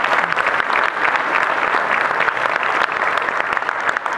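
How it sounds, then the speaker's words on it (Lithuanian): Audience applause for culture centre staff at a birthday anniversary show, steady, dense clapping from a packed hall that holds at an even level throughout. "taigi jiems irgi būtinai paplokite"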